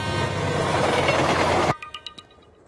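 A passenger train rolls past with a loud, dense rumble that cuts off abruptly partway through, leaving a few sharp fading clanks and tones.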